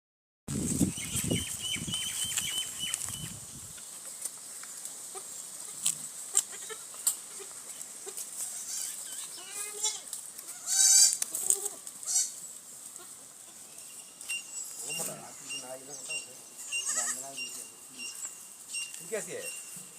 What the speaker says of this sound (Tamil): ஆடு எங்கேயும் உங்களோடவே தான் இருக்கு